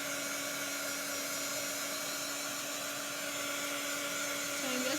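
A small heat gun blows continuously while drying chalk paste on a hexagon board, giving a steady high whine with a constant airy hiss that runs unbroken and close by.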